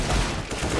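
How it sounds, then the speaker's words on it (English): Desert Eagle pistol shots crack loudly in a Counter-Strike esports match, a dense, close burst of gunfire that fills the brief moment. "Those Deagle shots were so crucial"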